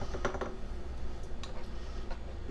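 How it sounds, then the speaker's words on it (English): A knife slicing marinated Danish herring on a bias into smaller pieces, a few quiet taps against the board close by, with no talk. "I'm going to cut this all on a bias into smaller"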